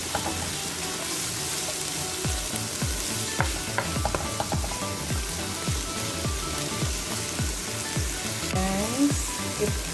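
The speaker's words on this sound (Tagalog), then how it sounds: "Ipapan-fry lang natin ang onion" Chopped onions for a beef stew pan-fry in a loud, continuous crackling sizzle close by, with occasional clicks and scrapes from stirring and no talk.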